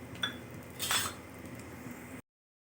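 Peanuts roasting in oil in a kadhai: a steady low frying hiss with a few metallic clinks and rattles of stirring, close and fairly quiet, cutting off abruptly near the end with no talking.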